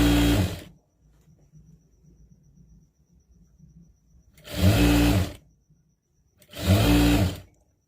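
A sewing machine stitches a diagonal seam on the belt of a crop top, running in three separate loud bursts with quiet pauses between them, close to the microphone.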